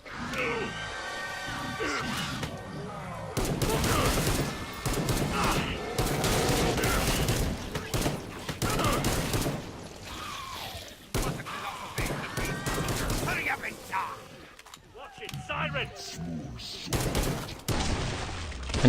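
Rapid gunfire from a weapon in Killing Floor 2, with repeated loud bursts and single shots mixed with impacts, creature noises and game effects, while someone talks over parts of the action.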